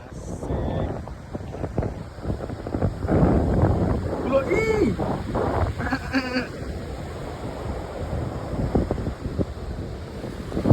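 Strong wind gusts roar continuously across an open outdoor spot in West Sumbawa, buffeting the microphone with rumbling, uneven surges while voices talk faintly underneath.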